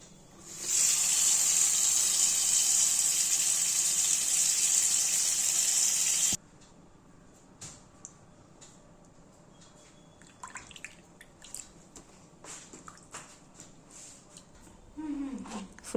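Chippi (shellfish) meat rinsed under a running kitchen tap: a loud, steady gush of water pours for about six seconds, then gives way to quieter scattered splashes and handling noises.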